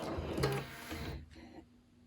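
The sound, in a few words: sewing machine stitching in place while free motion quilting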